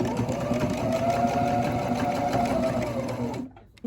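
A sewing machine runs continuously, fast and close, as it sews the final seam of a fabric scrunchie. It stops abruptly near the end, leaving a brief quiet and a last small knock.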